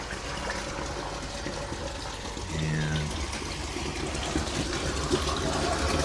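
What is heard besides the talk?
pool water draining back through pipes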